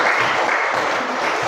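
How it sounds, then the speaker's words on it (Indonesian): Audience applause at a teachers' academic supervision training session, dense steady clapping filling the room throughout with no voices over it. "mari kita kasih aplaus untuk diri kita"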